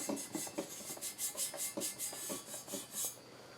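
A hand or tool rubbing across the rough, unpolished cast surface of a cheap LS carburetor intake manifold, a series of quiet rasping strokes in quick uneven rhythm, close up and alone.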